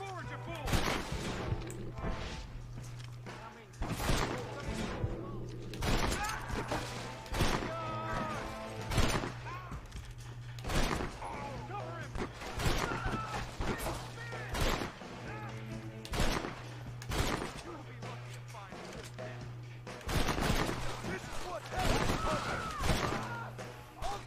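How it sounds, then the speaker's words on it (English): Rapid shots from a high power pistol in Red Dead Redemption ring out in quick succession over a busy battle with other gunfire, a low steady hum, and voices shouting throughout. "So the high power pistol fires pretty fast"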